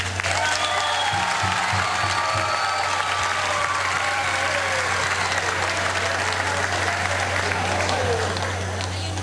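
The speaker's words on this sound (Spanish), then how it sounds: "Un aplauso para la familia Millán Villalobos." A television studio audience applauds a winning family on a Peruvian family game show, a loud, continuous wash of clapping with crowd noise that holds steady throughout, a low hum running beneath it.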